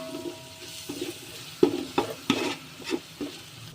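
Finely chopped mint leaves fry in a pan for a white khushka rice dish, a soft sizzle broken by sharp, irregular scrapes and taps of a spoon stirring against the pan, close by.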